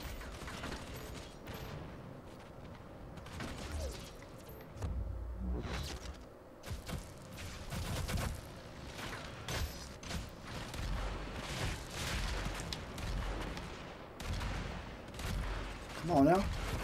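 Gunfire and explosive combat in the Doom beta video game, a long stretch of bursts and heavy blasts at moderate loudness, mixed with mechanical clanks and occasional speech.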